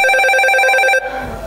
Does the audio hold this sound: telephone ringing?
yes